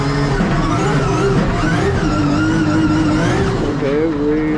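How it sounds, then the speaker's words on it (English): A Nissan 180SX drift car runs its first drift lap on a track, its engine droning loud and steady with rising and falling pitch as it revs through the slide. "let's how it feels on the first ever drift lap in the 180SX"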